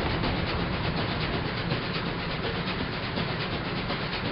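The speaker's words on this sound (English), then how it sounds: "that is the same track Alex is on as he continues heading straight for the tunnel with Farnsworth's train" A train rolls steadily along the track toward a tunnel, a continuous loud, dense rumble with faint rhythmic clatter and no breaks or voices.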